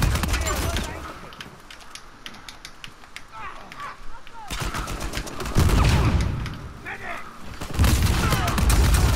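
Shotgun fire in the video game Uncharted 4: loud, booming blasts in several bursts over a busy, noisy game background.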